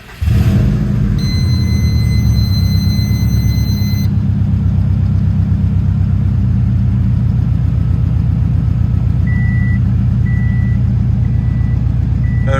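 A 2007 Subaru STI fires up with a quick crank and settles into a loud, steady idle, its deep rumble continuous and close, while a few high electronic beeps chirp over it.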